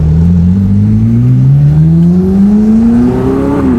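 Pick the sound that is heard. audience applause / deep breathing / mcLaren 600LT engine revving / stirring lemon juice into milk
mcLaren 600LT engine revving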